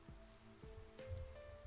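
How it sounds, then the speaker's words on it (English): Rain falling at night in the fighting game Persona 4 Arena Ultimax, a soft, quiet patter of drops with a few slightly heavier splashes over the short stretch. "It's raining."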